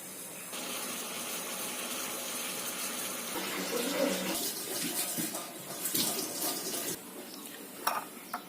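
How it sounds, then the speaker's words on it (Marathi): A herbal decoction pours and splashes steadily through a strainer for several seconds, with a few clinks near the end. "हा तयार झालेला काढा गाळणीच्या मदतीने गाळून घ्या"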